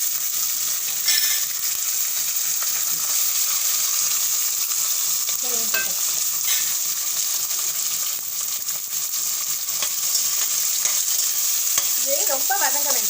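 Ginger, curry leaves, carrot and peas stir-fried in a pan, a constant loud sizzle with spatula scrapes and stirring clatter throughout, no talking.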